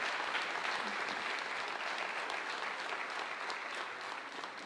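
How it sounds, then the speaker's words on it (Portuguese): A church congregation applauds steadily during a sermon service, a dense, sustained wash of clapping from many hands that fades only slightly toward the end. "Vocês podem aplaudir Bridger Walker."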